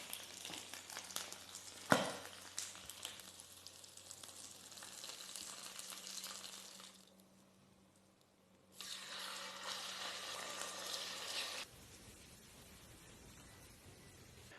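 Pork belly (liempo) frying in plenty of oil, with a steady close sizzle and a sharp clatter near the start. It quiets for a moment, then flares up again before falling to a softer hiss.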